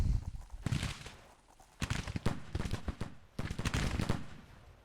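Gunfire in a large-scale battle video game, with bursts of rapid shots coming in several dense volleys separated by brief lulls, loud and sustained, with no talk.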